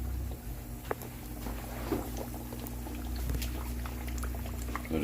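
Chicken pieces laid into oil heated to 350–375 degrees, giving a steady, fairly quiet sizzling hiss with a constant low hum beneath it and a few soft bubbling crackles throughout.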